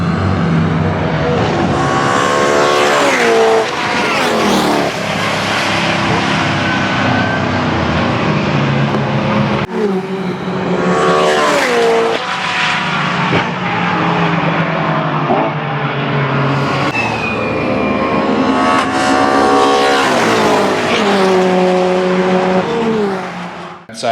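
A modified track car laps Donington Park circuit during an evening track day, its engine loud and close as it revs hard through the gears with sharp shifts, blips and repeated rising and falling sweeps.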